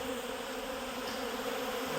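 Honeybees robbing a box of wet comb set away from the bee yard, a steady dense buzzing drone of many insects filling the whole stretch at moderate level, with no voices.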